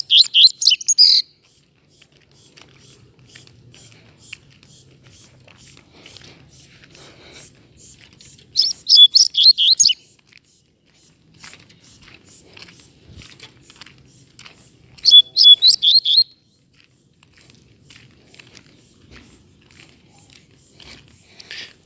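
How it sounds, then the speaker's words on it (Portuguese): A double-collared seedeater sings three short, bright bursts of chattering song separated by long quiet gaps, close and clear against near silence. "Passarinho que canta demais, demais."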